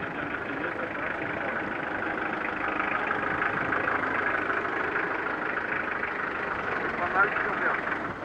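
A 4x4 vehicle's engine idles after being restarted, a steady low rumble running throughout at moderate level with no pauses.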